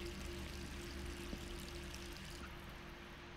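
Running water in the video game Resident Evil 3 Remake, a steady, even rush of flow that continues unbroken throughout, fairly close, with no talking over it.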